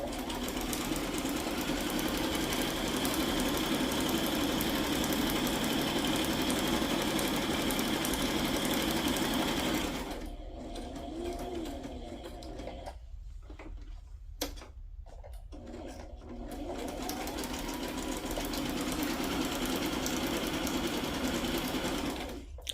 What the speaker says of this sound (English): I'm over here on my sewing machine.